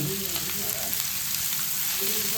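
Chopped onions fry in hot oil with a dense, constant close sizzle and faint stirring scrapes underneath.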